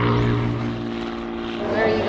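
A propeller plane's engine drones steadily at a skydiving airfield, a loud continuous hum with a buzzing tone and nearby people talking over it.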